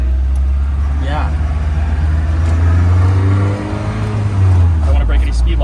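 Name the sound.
Renault Sport Spider car engine driving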